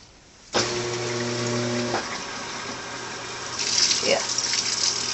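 A Maytag Bravos washer fills with water, a steady rushing flow that starts abruptly with a tonal hum early on, with a voice speaking over it.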